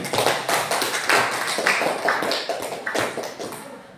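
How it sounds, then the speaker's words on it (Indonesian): Students in a school classroom clap together for a classmate, producing a dense, steady patter of hand claps that stays fairly loud and close for the whole stretch with no voices. "Tepuk tangan untuk Angel"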